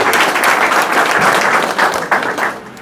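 A crowd gives loud, dense applause for the chief guest at the opening of a school branch, close and sustained for a few seconds, thinning slightly toward the end.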